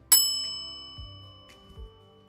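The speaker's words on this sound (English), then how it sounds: "It's a bell." A bell is struck once with a bright, sharp ding that rings on with a long, slowly fading tone, followed by a few faint low bumps.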